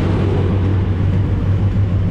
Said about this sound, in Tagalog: Okay guys, sakay muna ako ng jeep.